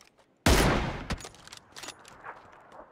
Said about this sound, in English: They're taking shots at us.